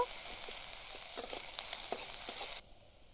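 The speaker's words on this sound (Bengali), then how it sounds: "পেঁয়াজ আর আদা আর একটু হালকা করে ভেজে নেব" Chopped onion and ginger frying in a pan, a soft continuous sizzle with small crackles and pops, fairly quiet, cutting off abruptly near the end.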